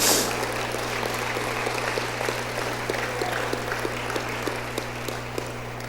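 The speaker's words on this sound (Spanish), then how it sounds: "démosle un aplauso al Señor" A church congregation applauds during a Saturday service, giving steady, dense clapping that carries evenly for several seconds over a low constant hum, with no voices on top.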